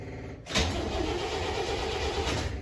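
A 1970 International Scout engine cranks briefly, then fires up at about half a second and settles into a loud, steady, rough idle close by.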